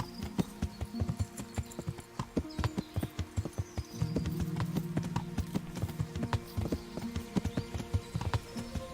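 Horse hooves clip-clop in a steady walking rhythm along a winding road in Kingdom Come: Deliverance, close and clear, with a brief low rumble partway through.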